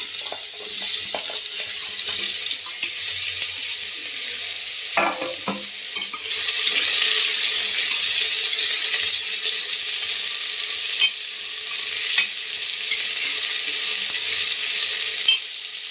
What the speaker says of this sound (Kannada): ಒಂದು 1/4 kg ಹೆಚ್ಚಿರೋ ಮೂಲಂಗಿ ಹಾಕೋತಾ ಇದ್ದೀನಿ.